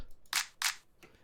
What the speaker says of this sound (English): in the transition area, I added this clap